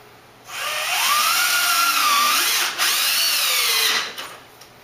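A cordless power drill snugs screws down tight during a bracket installation, a close, loud whirring burst that rises and dips in pitch across a few seconds with a brief stutter midway, then winds down.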